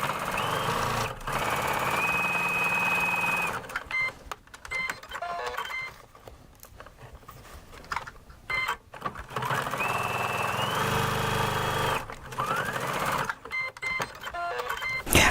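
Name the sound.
sewing machine stitching bag corners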